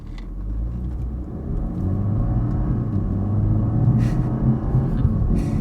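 A Toyota Supra 2.0 heard from inside the cabin during ordinary acceleration: a steady, low engine rumble swells gradually, with faint road noise and small knocks over the drone.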